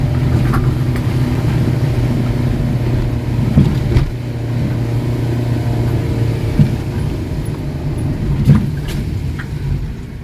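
A car engine labours steadily in first gear as it climbs a very steep, narrow hill road, a continuous low drone with occasional louder surges and knocks, close and with no talk.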